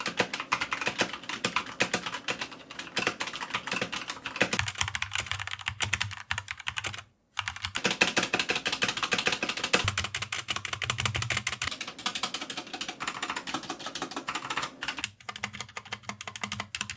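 Close, brisk typing on a Redragon K530 Draconic budget 60% wireless mechanical keyboard with brown switches, a dense stream of clacky keystrokes with a couple of brief pauses.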